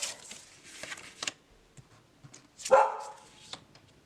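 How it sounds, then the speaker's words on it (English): Sharp dog barks ring out in short scattered bursts at a helicopter flying over, fairly faint and somewhat distant, with a louder yelp near the end. "there's a helicopter flying over, so the dogs are going to bark at it"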